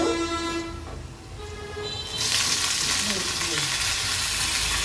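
Medium river prawns drop into a pan of already fried onions, and the cooking jumps into loud, steady sizzling. A faint tonal hum sounds in the background before the sizzle starts.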